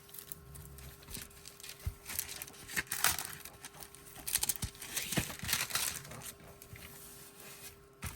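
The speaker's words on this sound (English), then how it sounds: "sometimes if you take off the plastic" Plastic film slowly peeled from a diamond painting canvas, a close crinkling and crackling with irregular tearing bursts that build in the middle, over a faint steady hum.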